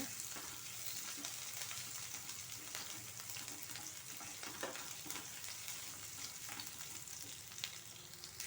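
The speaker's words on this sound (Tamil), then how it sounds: "இப்போ ஆனியன் நல்லா ஃப்ரை ஆகிடுச்சு" Steady, dense sizzling of onions frying over high flame in a hot pan for fried rice, continuous crackle with occasional stirring scrapes, close and fairly loud.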